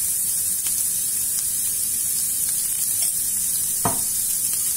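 Chicken liver frying in a pan, a loud constant sizzle with a few sharp pops and spatters.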